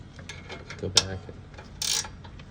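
A ratchet wrench tightens a bolt on the rear brake of a 2016 Nissan Murano, giving a few brief, scattered mechanical clicks close by at low volume.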